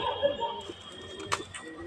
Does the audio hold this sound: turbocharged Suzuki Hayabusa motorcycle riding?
no